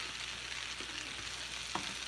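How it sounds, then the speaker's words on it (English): Zucchini pasta sautés in a pan, giving a faint, steady sizzling hiss for a couple of seconds with a small clink near the end. "So now I'm going to add my zucchini pasta."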